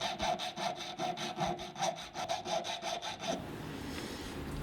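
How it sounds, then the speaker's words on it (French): A hand file rasps back and forth over a small jewelry piece in about fifteen steady, close strokes, then stops, leaving a soft hiss. "Je la lime pour que vraiment l'assemblage soit parfait"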